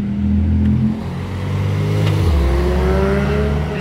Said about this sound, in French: on a la GT2 RS jaune qui se trouvait d'ailleurs derrière la Chiron